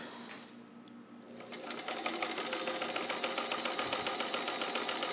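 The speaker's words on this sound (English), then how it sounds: "I'm intentionally sewing just moderate to slow right now." A vintage all-steel Brother Atlas sewing machine stitches heavier fabric at a moderate to slow pace, starting quiet and then settling into a close, steady mechanical whir with an even rhythmic chatter.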